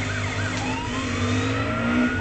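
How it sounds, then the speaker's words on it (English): A car accelerating in the video game Driver San Francisco: a sustained engine whine with slowly climbing pitch over a steady low rumble, continuous and moderately loud with no voices. "Now that's how you accelerate a car"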